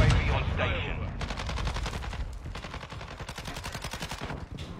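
Rapid bursts of video game gunfire crackle loud and close in a first-person shooter match, heavy automatic volleys repeating in tight rhythm throughout.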